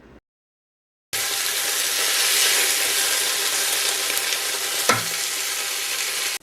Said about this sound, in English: Sear the meat on both sides.